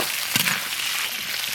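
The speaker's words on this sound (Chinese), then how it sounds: "冰糖炒化炒变色" Rock sugar stir-fried in hot oil in a wok with chicken, giving a steady, fairly loud hiss of frying with a brief scraping stir near the start and no talk.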